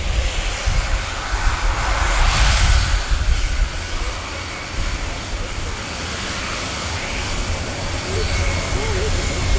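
An Airbus A400M Atlas of the German Air Force lands at the RIAT 2025 airshow, its turboprops roaring in reverse thrust as a loud, sustained rumble that eases slightly toward the end.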